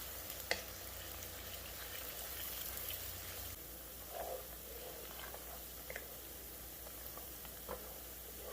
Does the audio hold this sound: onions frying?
yes